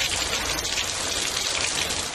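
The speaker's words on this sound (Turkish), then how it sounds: "Kars'ta şiddetli yağmur yol ve caddeleri göle çevirdi." Heavy rain pours onto flooded streets in Kars, Turkey, a dense, steady hiss of drops hitting pavement and water that stays loud and unbroken throughout with no voices.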